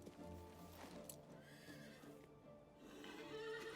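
A horse in the video game King's Bounty 2 neighs while its hooves clip-clop, a faint whinny over a steady run of hoofbeats with a soft music bed beneath.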